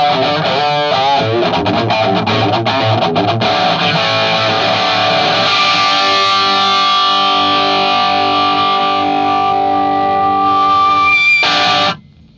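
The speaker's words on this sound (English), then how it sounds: "the crunch sound, number 34 sound, sounds like this." Electric guitar through a Marshall Slash signature amp on its crunch setting, number 34, with gain cranked high: distorted strummed chords and riffs give way to a long sustained ringing chord, loud and close, then cut off abruptly.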